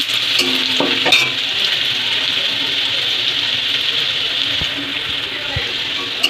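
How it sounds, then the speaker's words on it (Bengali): Onions frying in a little oil, a bright steady sizzle with a few sharp clicks of stirring, close and continuous without speech. "একদম খুবই অল্প তেলে পেঁয়াজটাকে লাল লাল করে ভেজে নেব।"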